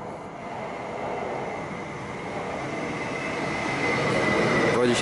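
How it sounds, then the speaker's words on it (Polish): A passenger train pulls into a platform at Skierniewice station in Poland, a steady loud rumble of wheels and carriages that builds slowly as it nears. "Pociąg osobowy LHA ze stacji Łódź Matryczna wjedzie na tor trzeci przy peronie drugim."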